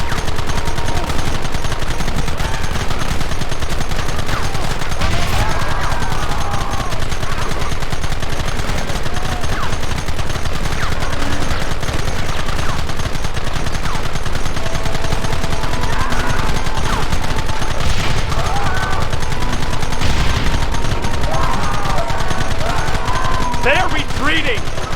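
Heavy sustained gunfire from Red Dead Redemption, dense rapid shots and volleys filling the whole stretch at high volume, with shouted voices mixed in.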